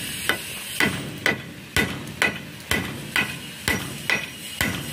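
Hammer blows driving nails into a wooden staircase, about eleven sharp, evenly paced strikes ringing out close and loud over a quiet background.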